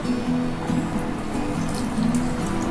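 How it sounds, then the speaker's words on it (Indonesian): A potted keladi wayang plant watered with dissolved NPK fertilizer, a continuous close pour and splatter of water onto soil and leaves lasting a few seconds. "Ini akan saya siram ke tanaman keladi wayang saya ini."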